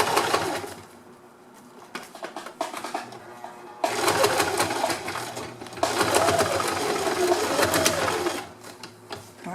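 A sewing machine stitches along a fabric edge with a close, steady mechanical whir that stops, pauses and starts again in long runs, while a pigeon coos in the background.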